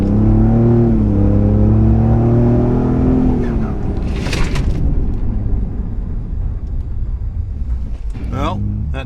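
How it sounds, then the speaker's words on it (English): A 500+ hp 2020 Ford Raptor fitted with Baer big brakes stops hard to bed in the new pads. Its engine drone falls sharply as the truck slows, then road and tire rumble carries on with brief voices inside the cab. "So we're going to jump in the truck and make these things brake hard"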